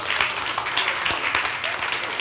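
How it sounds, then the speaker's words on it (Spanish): A church congregation claps and applauds during a worship service, a steady dense patter of hands lasting a couple of seconds, fairly close and even. "Dale un aplauso al Señor."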